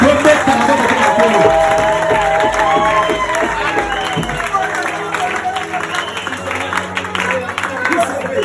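A church congregation applauds and cheers the Lord in a loud, dense burst of clapping and shouting voices that carries on steadily throughout, with some voices rising above the crowd.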